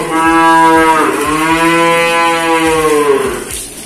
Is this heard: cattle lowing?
yes